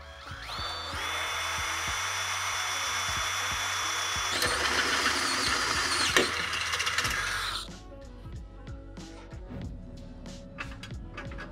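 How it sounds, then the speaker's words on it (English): A power drill with a half-inch bit boring through a Chevy Colorado truck frame, a steady high-pitched whine with grinding that runs for several seconds, then stops and leaves quieter rattling. "So I have a half inch drill bit."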